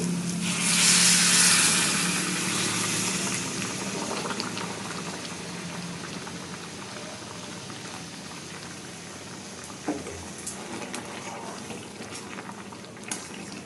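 Milk simmers with cooked grated carrot in a pan, giving a steady bubbling hiss with a few soft clinks.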